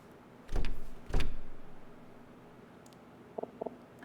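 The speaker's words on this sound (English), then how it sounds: "Emma, I can't get this door open." In a video game, a stuck car door is tried twice, giving two heavy rattling thuds as it jolts against the latch, followed by a faint low hum and a pair of small clicks.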